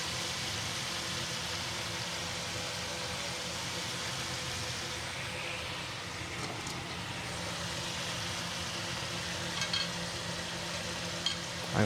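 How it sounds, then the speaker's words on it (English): Marinated steak frying in a very hot pan gives a steady, dense sizzle that holds evenly throughout, close and fairly loud, with no talking. "got the pan pretty hot. Put some of the marinated steak on there, and yeah, just let the pan do the work."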